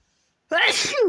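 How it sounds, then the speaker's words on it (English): A single sharp sneeze bursts out after a moment of silence, loud and close. "Sorry, I'm gonna sneeze."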